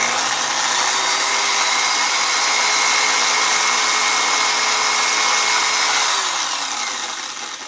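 A power tool whirs loudly while polishing inside a gun barrel, a steady high-pitched spinning drone held for about six seconds before winding down.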